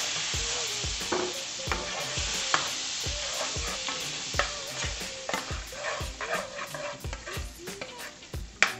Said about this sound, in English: we're going to add our cut up lobster.